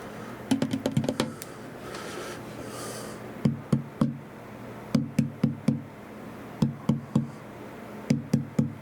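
Knuckle knocks on a wooden surface finished in French-polish shellac, sharp dry raps in irregular clusters of two to four, close and fairly quiet with short pauses between groups.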